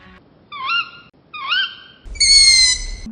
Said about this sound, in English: Meet the milky white beauty of the polar owl